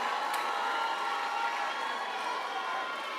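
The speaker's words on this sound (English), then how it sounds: "A round of applause from everybody." A graduation audience at a university ceremony claps and cheers, a distant, even roar of crowd noise that holds steady and softens slightly toward the end.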